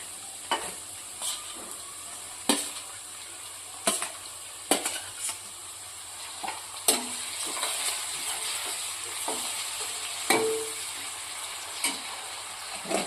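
Onions sautéed until soft, then tomatoes added to the pan, for a Gujarati olo (roasted aubergine) dish: a steady close sizzle and hiss with sharp clinks of a spoon stirring against the pan throughout, no talk.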